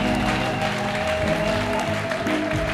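A church congregation claps and cheers together to acclaim the Lord, a dense and steady wave of applause sustained throughout with musical tones underneath.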